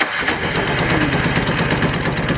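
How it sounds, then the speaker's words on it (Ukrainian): Small snow blower engine running steadily after an electric start from a 220-volt outlet, a loud, continuous mid-pitched drone with slight knocking texture throughout, close by and alone. "А от запускається так він електрикою"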